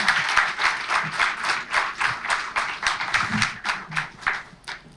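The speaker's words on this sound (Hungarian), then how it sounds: "Tapsot neki, köszönjük szépen, hogy itt vagy." Steady audience applause at a Hungarian talk event, dense and continuous with a pulsing rhythm across the whole stretch, fairly close and full, with no clear speech on top.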